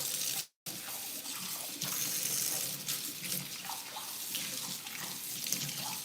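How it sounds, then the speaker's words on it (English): A kitchen faucet runs steadily into a sink, a continuous splashing rush with a brief cut near the start, no voices. "I just hate that you all gotta listen to the water running"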